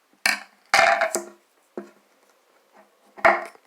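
Scissors snip around a piece of electrical tape stuck on a dime, used for a Kohler Class 5 AquaPiston toilet flush fix: several sharp, close cuts and clicks in uneven bursts, with pauses between them.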